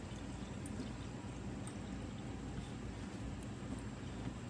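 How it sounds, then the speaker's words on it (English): A slow stream of water pours off tomato seeds in a container, a faint, steady trickling hiss that runs evenly throughout without any speech. "just start pouring that off"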